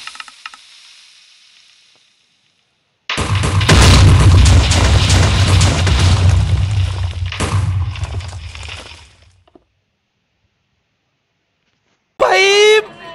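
A Minecraft TNT cannon blast: a loud explosion erupts with a long rumbling, crackling roar lasting several seconds before cutting off, then silence and a brief burst of speech at the end.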